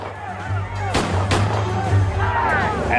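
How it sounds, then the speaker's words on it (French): Several sharp gunshot cracks at a Columbus Circle rally organised by the Italian-American Civil Rights League, two prominent reports near the middle and a later one, over a crowd murmur and a low steady hum. "Tout d'un coup, on a entendu plusieurs coups de feu."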